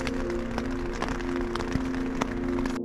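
Rain patters steadily on a surface in the mountains of Mt Aspiring National Park, New Zealand, a soft continuous hiss with occasional louder drops and a low steady hum underneath.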